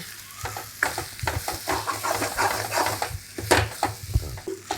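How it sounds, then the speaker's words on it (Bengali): Soybean filling for paratha fries over low gas in a wok, a close sizzle broken by repeated scraping stirs in an uneven rhythm, with no talking. "গ্যাসের আঁচ কমিয়ে পাঁচ থেকে ছ মিনিট মতো ভালো করে কষিয়ে নেব"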